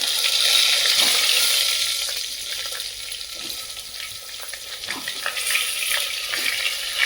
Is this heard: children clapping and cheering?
no